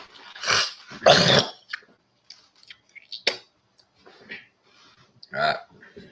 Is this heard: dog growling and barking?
yes